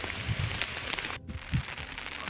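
Monsoon rain falls steadily in Gir forest, a soft continuous patter and hiss that holds at an even level for the whole stretch with a few brief louder drops.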